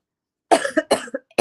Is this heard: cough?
yes